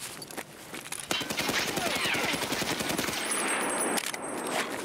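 Rapid automatic gunfire from a machine gun in the shooter game Escape From Tarkov, a dense close burst of shots lasting several seconds with a few scattered single shots at the start.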